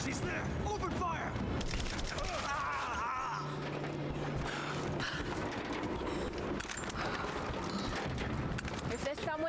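Rapid gunfire from enemy soldiers in Rise of the Tomb Raider, a dense, continuous burst of shots and impacts mixed with game effects and shouting voices throughout.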